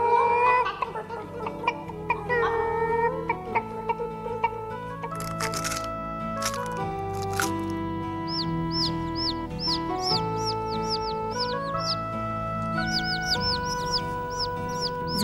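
Hens cluck repeatedly in short bursts over a sustained musical backing, the clucks coming in quick clusters through the second half.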